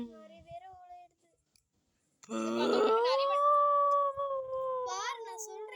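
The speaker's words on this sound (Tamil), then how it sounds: "ஏதோ சொரி நாய் கத்திது போல இருக்கு" A single dog howls in a long, wavering, rising-and-falling note after a brief pause, loud and fairly close, with a few short sounds just before.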